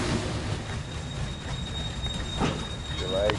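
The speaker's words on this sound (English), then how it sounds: "It's actually pulling into the train yard right now." A train pulls into a train yard with a steady low rumble of rolling wheels, brief metallic squeals and clatter near the end, and a faint thin whine held above the noise.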